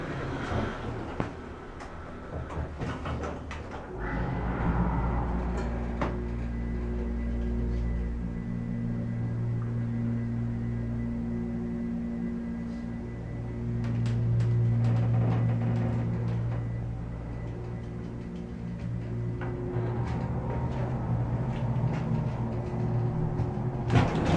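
A low, steady hum of a 1970s Dover hydraulic elevator motor in a parking garage runs for a long stretch, swelling and easing, with a few clunks near the start and end like doors or machinery shifting.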